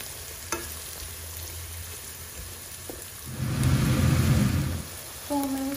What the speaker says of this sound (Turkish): Yağımız kızmaya başladı. İçerisine soğanlarımızı ekledik.